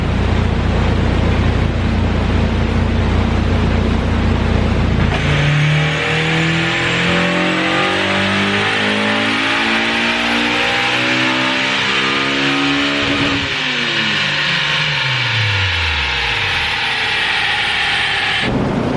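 A Honda S2000 fitted with a cheap aftermarket header revs hard on a dyno, its loud engine note climbing steadily through the gears in a full pull, with wind-like roar and rising whine throughout and no talking.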